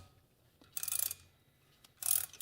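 A wrench tightens the nut on a piston wrist pin puller. Two bursts of metallic ratcheting clicks, about half a second each, come close and crisp, with a quiet pause between them.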